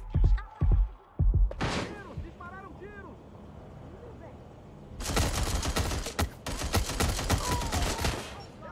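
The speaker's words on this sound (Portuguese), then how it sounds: "Eu nem sei quem tá atirando." Gunfire in the video game Watch Dogs Legion: a few sharp shots early, then a dense, loud fusillade of rapid automatic fire in the second half, with a voice talking in between.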